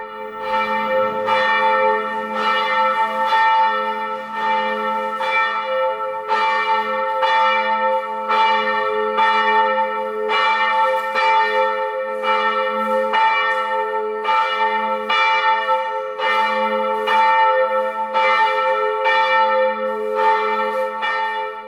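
Church bells ring from the bell tower of the Abbey Church of St. Johann, steady repeated strokes overlapping into a loud, sustained peal with a low humming tone beneath, with no talk throughout.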